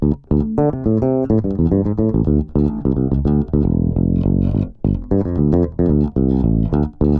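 An old Music Man StingRay electric bass plays a run of deep, plucked notes in a busy rhythmic line, close and loud, with no voices.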